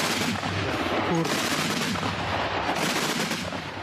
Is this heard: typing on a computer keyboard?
no